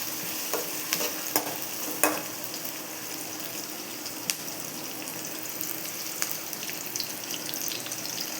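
Small onions sauté in a pan for a bitter gourd tamarind curry, a continuous close frying sizzle broken by scattered scraping and stirring clicks, with no voices.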